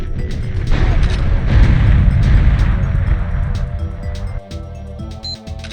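Grenade blasts in the GoldenEye video game come as a dense run of heavy, booming explosions piled on each other, loud and continuous, thinning out toward the end.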